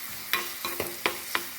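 Onions sauté in a pan, a soft steady sizzle broken by four crisp scraping strokes of a spoon against the pan, close and alone.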